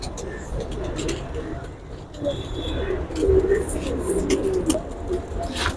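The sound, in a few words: pigeons cooing on rooftop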